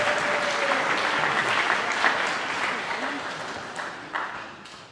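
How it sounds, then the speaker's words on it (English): A church congregation applauds during a Christingle service, a full, loud round of clapping that holds steady and gradually fades over five seconds. "We need a round of applause."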